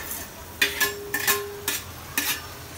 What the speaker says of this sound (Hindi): अभी मैं इसमें डालूंगी प्याज